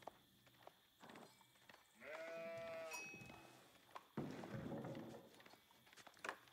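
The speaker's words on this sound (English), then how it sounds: "Finding a whole bunch of sheep on his way home." Sheep in a video game bleat in a short cluster of loud, clear calls over a quiet backdrop of game ambience, followed by softer shuffling sounds.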